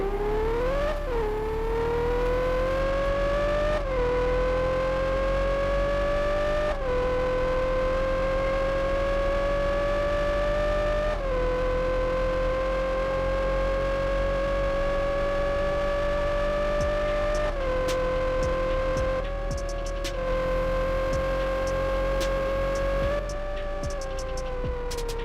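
A sports car engine in the Roblox driving game screams loudly and continuously, its whining pitch climbing steadily and dropping back at each of several gear shifts.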